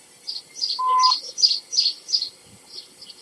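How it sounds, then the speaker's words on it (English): Birds chirp in a quick run of bright, repeated calls, with one lower whistled note midway; no one is speaking. "overhead the birds sang merrily"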